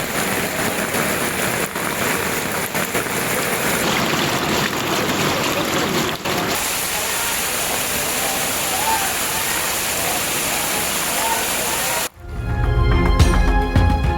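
Heavy night rain pours at Tirumala, a dense, steady roar of downpour that fills the scene, then cuts abruptly near the end to a lower, rumbling wash.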